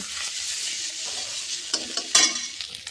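Ginger paste and turmeric frying in a pan for a thankuni leaf curry, a soft, continuous sizzle broken by a few sharper scraping stirs near the end.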